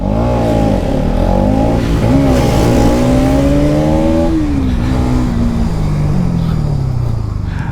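A 2023 Bajaj Pulsar NS200 BS7 motorcycle accelerates hard on a track, its engine note climbing steadily through the revs, then easing and dropping back in pitch. The loud, continuous exhaust runs for the whole stretch.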